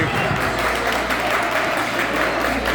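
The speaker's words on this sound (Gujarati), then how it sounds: "તાળી તાળી" People at a family picnic celebrating Father's Day clap continuously in a dense, even wash of hands, with voices mixed underneath.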